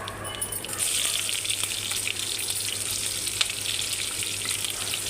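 Sliced onions frying in hot oil already seasoned with mustard seeds, cumin and curry leaves, a steady close, bright sizzle that rises as the onions drop in and keeps crackling with faint stirring.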